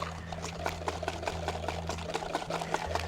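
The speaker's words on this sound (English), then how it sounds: "we then mix our wet into our dry and then mix all of this together" Wet and dry chocolate cake ingredients get mixed together in a bowl, a quick steady rhythmic beating over a constant low motor-like hum.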